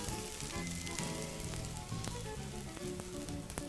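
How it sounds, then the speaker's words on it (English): Onions hit a hot, oil-coated pan for a beef pilau and sizzle steadily, a loud, continuous frying hiss with small crackles throughout, heard close up and with no one talking. "Make sure your pan is nice and coated, and straight in there, I'm gonna go with my onions."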